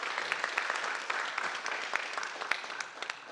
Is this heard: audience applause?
yes